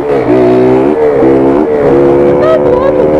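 Honda Titan 150 motorcycle engine drones loudly and up close, its pitch stepping up and shifting as it revs on the road.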